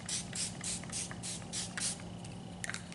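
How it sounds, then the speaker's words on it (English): A facial mist spray bottle pumped close by, giving a series of short hissing spritzes in a quick regular rhythm, about ten in a row, quiet and alone. "And spray 20 centimeters from face."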